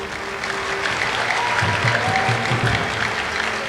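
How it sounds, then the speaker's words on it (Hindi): A crowd gives a loud, sustained round of applause to welcome the singer, clapping filling the hall continuously, with a faint tonal background sound running beneath it. "खूब जोरदार तालियों से उनका स्वागत किया जाए।"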